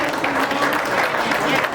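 Audience applause at an awards show in Montreal, a brief, dense burst of clapping with crowd noise.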